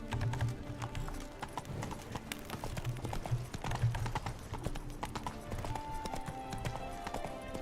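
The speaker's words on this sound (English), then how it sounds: "I'm slower on the horse." Horse hooves clip-clop steadily in The Witcher 3 as a horse is ridden through the city of Beauclair, a continuous rhythmic trot mixed with game ambience and faint background voices.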